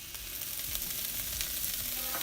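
Italian sausage and Canadian bacon sizzle on a grill, a soft, steady frying hiss with faint crackles heard at a low level.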